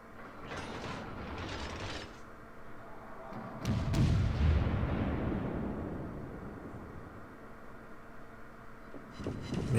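Naval gunfire from an Italian Montecuccoli cruiser in World of Warships, a deep booming salvo near the middle of the clip over steady engine and mechanical rumble.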